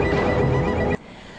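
A horse neighs loudly and close in one shrill, quavering whinny that cuts off abruptly, followed by quiet.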